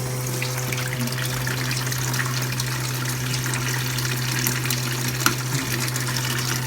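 Water bubbling steadily in a DIY kayak livewell bait tank fed by an air intake, a continuous close gurgling wash over a low pump hum.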